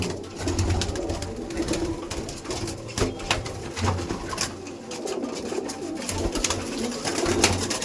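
Madrasi racing pigeons coo repeatedly in a loft, soft low throaty calls overlapping in a steady chorus with faint rustling and flapping nearby.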